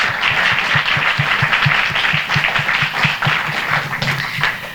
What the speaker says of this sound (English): let's have a great big round of applause for our panel tonight